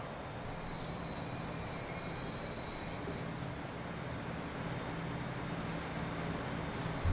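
Game trains in Transport Fever rumble steadily throughout, with a sustained high wheel squeal over the first few seconds, then a continuous low rolling drone with no talking.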